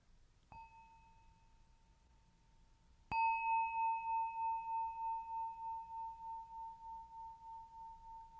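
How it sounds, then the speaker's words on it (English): A bell is struck twice, a faint first strike followed by a louder second one whose clear pure tone rings on with a long, slowly pulsing resonance that barely fades. "as you will have heard on each of the bells, what we're listening for is this really lovely resonance that just keeps going"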